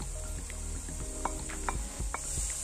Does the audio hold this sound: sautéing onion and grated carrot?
yes